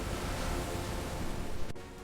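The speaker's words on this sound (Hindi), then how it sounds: "नजदीकी नदी का पानी खतरनाक हद तक बढ़ने लगा।" Rushing river water rising in a jungle cartoon, a dense continuous roar of surging water filling the whole short stretch, with a brief dip near the end.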